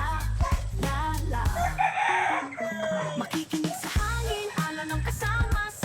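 A three-month-old backyard rooster, newly maturing, crows in several loud strained calls close by, with clucking and other farmyard noise between the crows.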